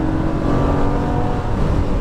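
A Lamborghini Gallardo LP550 accelerates hard after an upshift on a track straightaway, its engine a loud, dense, continuous roar close by with no voices.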